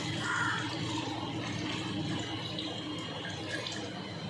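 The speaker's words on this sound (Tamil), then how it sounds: "அந்த மட்டன் வேக வச்ச தண்ணி ஊற்றிக்கிறவங்க" Mutton stock water being poured into a pot for basmati mutton biryani, a steady close splashing wash that runs throughout without pause.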